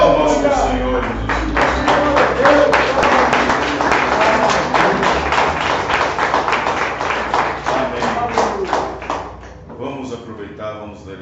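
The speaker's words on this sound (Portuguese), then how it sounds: "Palmas para o Senhor Jesus." A congregation claps in praise during an evangelical church service, steady dense hand claps for about ten seconds with voices over them, tapering off near the end.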